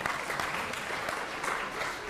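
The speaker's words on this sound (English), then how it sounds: "Round of applause for remembering the answer" Lecture hall audience in a Yale game theory class clapping steadily in a dense, even wash of applause that runs the whole moment at moderate distance, with no voices standing out.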